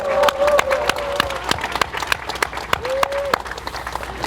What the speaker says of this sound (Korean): 우리 심재돈 전 예비후보에게 여러분 다시 한번 뜨거운 박수 부탁드리겠습니다